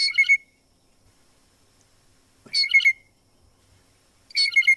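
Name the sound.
blue jay calls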